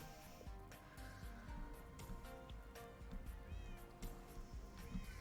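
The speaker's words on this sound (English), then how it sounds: "You got a little kitty in there and everything." A small cat meows a few times in a harbor setting within a video game, faint and high-pitched over background music and ambient game sounds.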